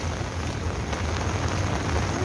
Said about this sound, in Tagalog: Kasi pabugso-bugso na po yung ulan.